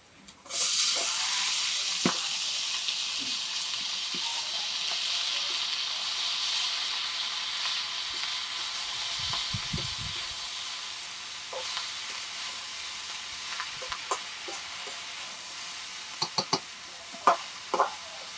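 Leafy greens fry in a pan with chaka prawns, onion and garlic, giving a loud, steady hiss and sizzle with a few scattered knocks and clicks of stirring toward the end.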